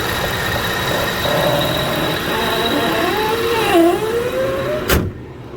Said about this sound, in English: And listen to how good she runs